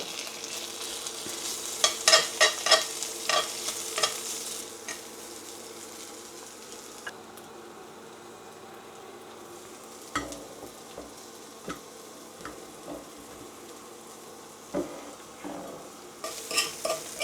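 Avocado oil sizzling softly in a pan with food, quiet frying hiss punctuated by clinks and scraping of a utensil against the pan, with a few louder knocks.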